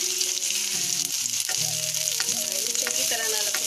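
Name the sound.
bell peppers frying in a pan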